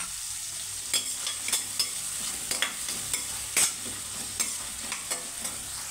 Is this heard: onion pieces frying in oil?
yes